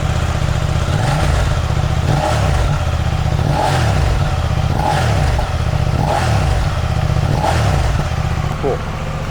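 A 2022 KTM Duke 890R motorcycle fitted with an Akrapovic exhaust revs loudly from about five feet away, rising and falling in steady repeated blips with no talking over it.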